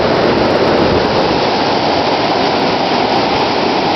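Floodwater from heavy rain rushes across the road at Tortilla Flatts, a loud, dense, unbroken roar like a waterfall, close and steady throughout.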